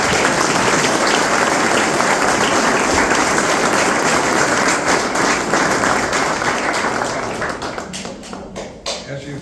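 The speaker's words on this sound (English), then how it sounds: "So if you could join me in one final round of applause." A ceremony audience applauds steadily and loudly throughout, dense clapping from a crowd at a fraternity chapter recognition program that tapers slightly near the end.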